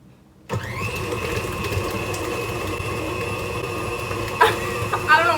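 An electric mixer whirs on high speed through peanut butter cookie dough, starting abruptly and holding a steady, loud motor drone with a strong tonal hum, briefly bumping and rattling near the end.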